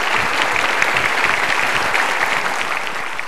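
A studio audience at a motivational talk show breaks into loud, continuous applause, a thick steady roar of clapping that begins to taper toward the end.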